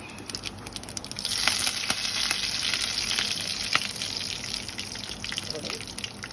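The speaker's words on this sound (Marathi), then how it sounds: "कढीपत्ते टाकते." Curry leaves go into hot oil already holding mustard seeds and cumin, and the pan bursts into a loud, dense hiss that swells after a second and holds steady, with a few crackles and pops.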